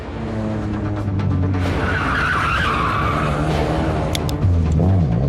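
Car taking a corner at speed on a test course, engine droning loudly throughout while the tires squeal and skid, with the engine note rising near the end.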